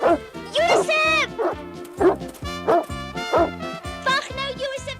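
A dog barks and yips repeatedly in a cartoon scene, a rhythmic series of sharp, close barks with whiny, rising yelps between them, loud and alone without talk.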